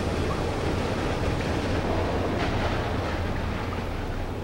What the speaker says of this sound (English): So that lets in water.